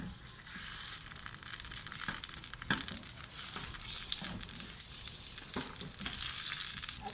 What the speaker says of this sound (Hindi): अच्छे से इनको मिक्स कर लेते हैं।